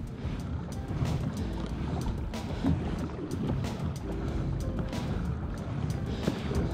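An Old Town Topwater or Predator pedal kayak spins circles on open water, giving a low churning wash and soft splashing with faint wind, steady and close throughout.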